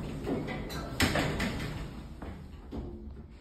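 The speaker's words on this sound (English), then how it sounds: "Doors closing." Kone-modernised 1998 Otis 2000 VF lift doors sliding shut at a shopping centre in Reading, with a rumbling slide, a solid thump as they meet, and a lighter knock afterwards against background hum.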